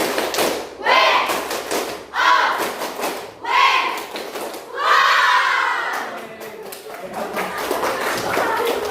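A classroom group performs the 'tepuk wow' clap chant, several rounds of rhythmic clapping bursts with children shouting and cheering between them, loud and close, with voices chanting along.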